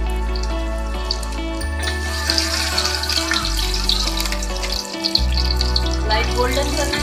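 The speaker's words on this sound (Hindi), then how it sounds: "अब इसके साथ ऐड कर देंगे हम जिंजर यानी कि अदरक 1 टेबलस्पून। इसको भी थोड़ा सा फ्राई करेंगे।" A tablespoon of ginger sizzles in a pan of hot oil, a steady close frying crackle that runs throughout beneath a low background hum.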